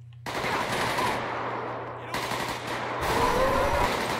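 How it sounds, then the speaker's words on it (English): A minigun fires in the GTA 5 video game, loud, continuous rapid bursts of gunfire filling the whole stretch, briefly easing and then resuming, with no talk over it. "Get a minigun."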